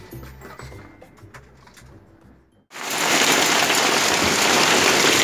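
Faint dripping and light patter give way to a sudden loud, dense roar of hail hammering a surface, steady until the end.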